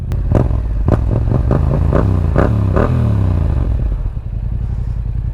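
Motorcycle engine pulling away on a first ride: loud, close engine note with a rhythmic series of rising revs and a pop-like pulse, climbing in pitch then settling into a steady drone.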